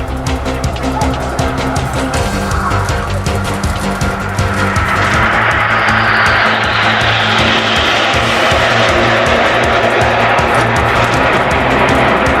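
Red Arrows jets touching down at RNAS Yeovilton air day, a loud continuous roar of jet engines that swells and brightens into a rushing hiss as the aircraft pass close, with no talking.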